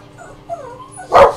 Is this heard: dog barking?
yes